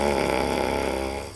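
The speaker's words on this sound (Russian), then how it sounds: "Прислушайтесь, реально храпит." A soldier asleep and snoring, one drawn-out rasping breath that is fairly close and fades toward the end, with no talking over it.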